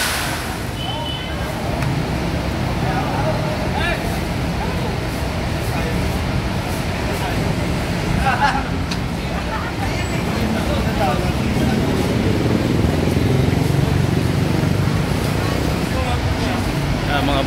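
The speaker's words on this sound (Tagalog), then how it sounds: "Yan po yung mga bus na nakapila ngayon dito sa Pasay 5-star terminal." Buses queued at the Pasay 5-star bus terminal give a continuous low engine rumble and traffic drone, steady and fairly loud throughout, with a few faint knocks.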